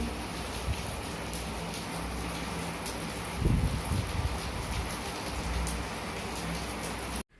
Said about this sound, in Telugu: చూడండి ఎలా పడుతుందో వర్షం, అసలు విపరీతంగా పడుతుంది.